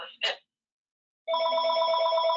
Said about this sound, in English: we're just going to ignore another phone call